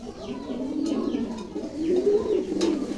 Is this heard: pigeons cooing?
yes